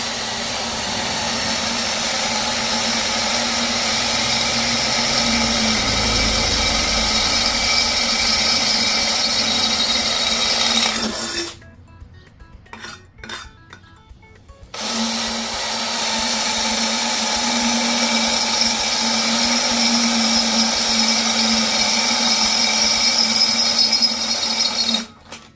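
Power drill boring holes while building a trailer hitch, a steady loud motor whine running continuously, cutting out for a few seconds midway, then resuming at the same pitch.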